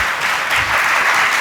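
A congregation claps loudly during a Hindi religious sermon in Jabalpur, dense continuous applause filling the short moment without speech.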